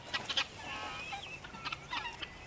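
Young chicks cheeping among farm chickens, a few quick high chirps and soft clucks in short bursts, close and fairly quiet.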